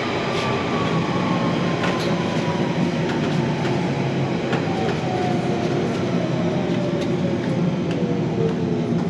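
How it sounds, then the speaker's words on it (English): A London Underground Central Line train runs into Epping station on a curve, with a steady loud rumble of wheels on rail, some clickety-clack and faint wheel squeal rising as it pulls into the platform. "enter the town of Epping and approach the station, just on a curve"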